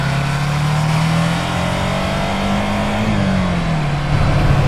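Engine of a 2025 Ducati Scrambler motorcycle under throttle, a steady close droning note that rises and falls slightly as the rider tips in, running continuously without voices.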